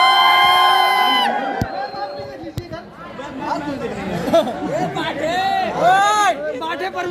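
Crowd of onlookers at a Bhojpuri film shoot at a college campus in Balrampur, shouting, whooping and chattering loudly and continuously, with excited voices rising and falling throughout.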